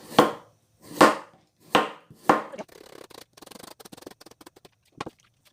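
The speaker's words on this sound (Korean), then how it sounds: "오이를 좀 썰어줄게요" A knife slicing cucumber on a cutting board: four loud, evenly spaced chops, then a quick run of lighter rapid taps and one last sharp cut.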